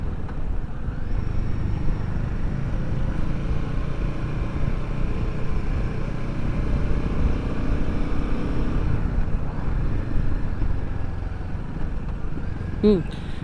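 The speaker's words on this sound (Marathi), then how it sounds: "ही म्हणजे हिमालयन 450चा हा माझ्यासाठीचा फर्स्ट एक्सपिरियन्स तुम्ही म्हणू शकता" Royal Enfield Himalayan 450 motorcycle engine, a steady low drone with road and wind rumble running throughout, heard under someone talking over it.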